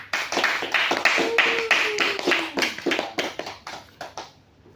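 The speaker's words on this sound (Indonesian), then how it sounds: "Kita berikan tepuk tangan sekali lagi." Classmates clap together in a school classroom after being asked to applaud once more, a dense patter of hands that fades toward the end, with a voice briefly heard in the middle.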